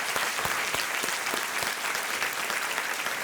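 Studio audience applause on a televised quiz show greets a new contestant, a dense steady clatter of clapping filling the whole stretch with no talk over it.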